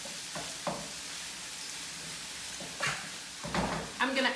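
Food sautes in a pan with a soft, steady sizzle under occasional clatter from utensils and a cupboard or drawer, with a voice speaking briefly near the end.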